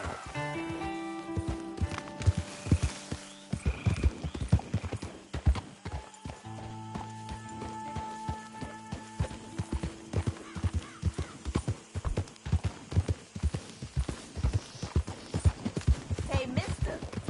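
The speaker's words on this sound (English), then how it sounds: "That's one nice-looking horse you got there." Horse hooves clip-clop at a trot in Red Dead Redemption 2, a close, steady rhythm of hoofbeats running throughout, with a brief whinny and some game sounds mixed in.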